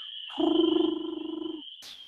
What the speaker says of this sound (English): that's the common toad, American toad, calling in this pond